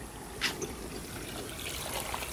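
Tap water trickles steadily while vegetables are rinsed at home, a soft continuous wash of flowing liquid with a few small splashes and clinks, no talk heard.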